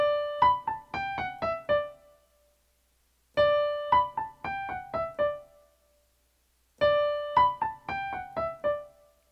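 A piano plays a short phrase from the first movement of a Mozart sonata three times, each a quick run of about six clear notes that ring out, separated by silent pauses.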